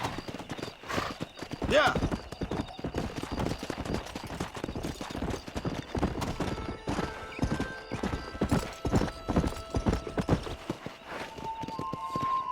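Horse hooves galloping in Red Dead Redemption, rapid dense pounding beats close and loud with a brief whinny and music, while a voice speaks briefly over them.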